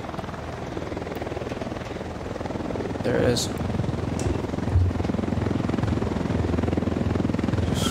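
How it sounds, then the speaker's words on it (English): Helicopter in the video game Ghost Recon Wildlands flying by at a distance, a steady rotor drone running the whole time beneath voices talking over it. "I hear a chopper."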